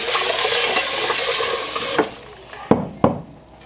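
Jasmine rice is rinsed under running water. A steady splashing flow fades off, followed by a couple of sharp knocks of a container, close by and without talking.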